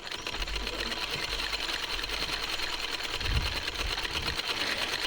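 A sewing machine runs steadily and fairly close, stitching a decorative hem on the cuff of a salwar in a continuous whirring drone that never pauses.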